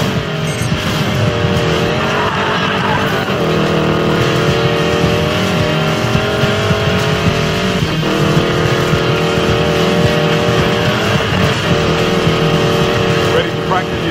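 A hypercar racing in Need for Speed Payback, its engine droning continuously with pitch swells, along with tire noise and gameplay effects. Voices talk over it throughout.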